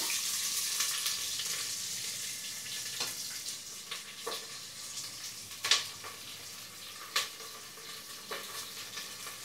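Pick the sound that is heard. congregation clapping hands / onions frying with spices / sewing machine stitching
onions frying with spices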